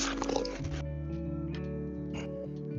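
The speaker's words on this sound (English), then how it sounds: "All the dogs are here." Several dogs on a rural Mississippi porch make short snuffling, whimpering and grunting sounds close by, over a low steady background hum.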